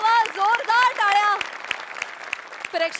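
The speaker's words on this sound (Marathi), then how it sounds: "जोरदार टाळ्या" Audience applause at a stage comedy performance, a dense wash of claps that starts under loud sung vocal tones, carries on alone, and ends as the voice returns.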